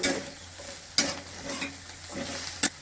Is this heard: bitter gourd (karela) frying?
yes